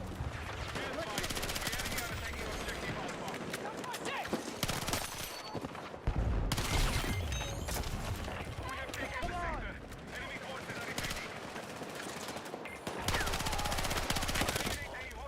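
Rapid machine-gun bursts and gunshots in Battlefield 6 crackle almost nonstop, loud and close, while a player talks over the firing.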